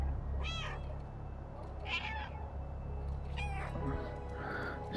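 A cat meows in the video game Stray, three or four short separate meows spaced a second or so apart over a low steady background hum.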